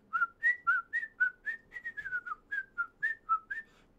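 A person whistles a quick, bouncy tune of about eighteen short clear notes in a steady rhythm, close and alone with no talking.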